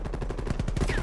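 Rapid burst of gunfire in a video game scrim match, a quick, dense string of loud shots over about a second, fairly close.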